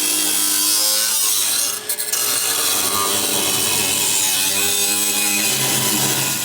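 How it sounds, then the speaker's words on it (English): An angle grinder trims sheet metal for a 1937 Lincoln Zephyr firewall, giving a loud, steady whine with rough grinding texture that dips briefly near the two-second mark before carrying on without pause. "I'm gonna get the grinder, trim this"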